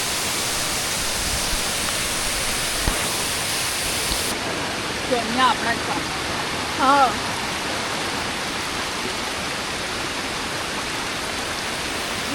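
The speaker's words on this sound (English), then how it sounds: "It's a creek, small creek. And then we have another small creek or waterfall." Small creek and waterfall in Monteverde, Costa Rica, a steady, loud rushing hiss of flowing water filling the whole scene, with a brief spoken exclamation and faint birdlike chirps partway through.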